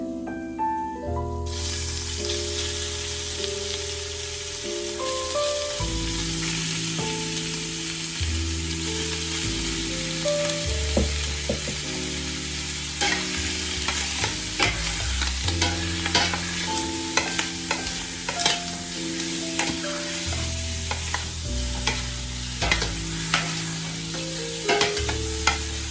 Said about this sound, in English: we got a nice sizzle in that